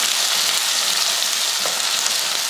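Shallots and garlic sizzle steadily in hot oil for a sambar tempering with mustard seeds, fenugreek and curry leaves, a dense, even frying hiss that runs close and loud throughout without pause.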